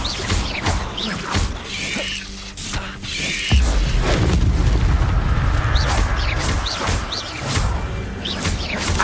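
Incendio fire spell blasts in a wizard action game: loud bursting whooshes and booming impacts amid clattering combat effects, with a heavier sustained rumble in the second half.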